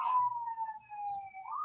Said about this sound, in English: I got sirens in the background now, of course.